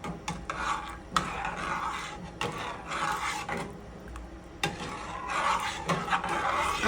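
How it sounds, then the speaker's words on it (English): Cornmeal porridge is stirred in a pot, with a repeated scraping, rubbing rhythm of the spoon against the pot, close and fairly loud in uneven strokes. "If you don't stir, it's gonna get lumpy, so we gotta keep stirring."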